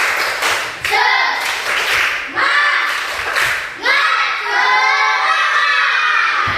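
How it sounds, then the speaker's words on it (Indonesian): Schoolchildren in an Indonesian classroom do a rhythmic spirit clap, a few sharp claps at the start giving way to loud, close, excited shouting and chanting voices that dominate the rest. "coba tepuk tangan semangat lagi. Tepuk semangat."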